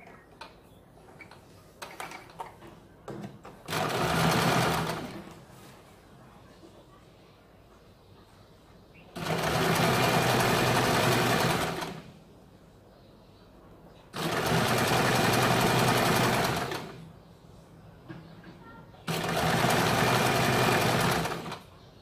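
A sewing machine stitches a folded kurti hem in four separate loud, steady bursts of a few seconds each, with quieter pauses and faint background sounds between runs.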